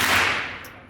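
A single shot from a Ruger 10/22 Takedown rifle fired at a range, a close, loud crack whose broad noisy burst tails off over about a second, with no voices.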